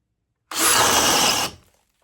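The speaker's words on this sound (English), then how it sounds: "now we got a spider bit, 1 3/8 inch paddle bit" A DeWalt DCD806 cordless drill in drill mode at speed 2 bores with a 1 3/8 inch spider paddle bit, a loud, close, steady whine and grind lasting about a second before it stops and fades.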